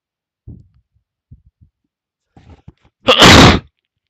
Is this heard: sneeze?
yes